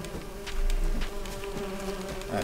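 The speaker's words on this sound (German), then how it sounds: "Oh, eine Bienennest." Bees buzz around a beehive in The Witcher 3, a continuous close droning hum with swelling and fading tones as insects move about, no talk.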